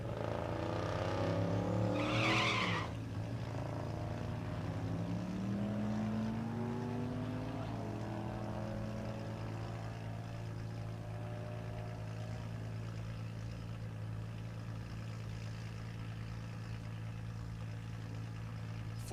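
A pickup truck makes a drag racing run at Mid America Dragway in Geuda Springs, Kansas, its engine roaring steadily and climbing through gear changes, with a sharp burst early on and then a sustained loud drone.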